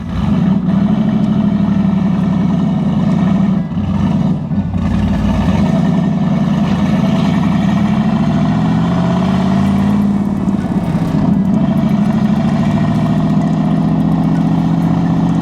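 A big-turbo Chevrolet Camaro SS 1LE with a six-speed manual runs loud and steady from inside the car, its deep engine roar swelling and easing as the revs shift during a drive.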